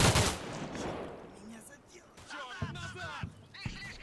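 Gunfire in the Cold War tactical wargame Combat Mission: Cold War: a loud opening burst of shots, then scattered reports and impacts under a voice.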